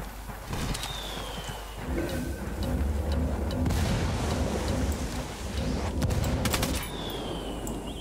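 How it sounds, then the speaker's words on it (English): Mortar shells exploding in Ghost Recon Wildlands, heavy rumbling blasts rolling one after another across the clip with some sharp cracks of gunfire mixed in, no voices. "And they're dropping mortars, because why not?"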